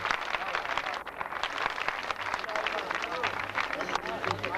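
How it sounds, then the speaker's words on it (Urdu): Crowd at a political rally on river erosion of the Chenab breaking into dense, sustained applause and cheering, loud and continuous, with voices mixed into the clapping. "تہاڈی تالیاں دی گونج"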